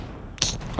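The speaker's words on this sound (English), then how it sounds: "I can hear gunshots." A short burst of video game gunfire in Fortnite erupts after a quiet moment, sharp and loud, followed by a fainter echoing shot.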